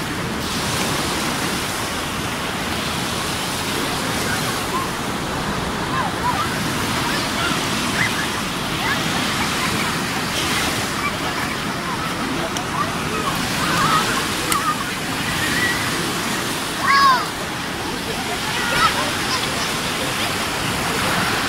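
Sea surf washing onto a beach at Narbonne, France, heard as a steady broadband wash of waves with occasional louder swells, and faint voices or chirps mixed into the background.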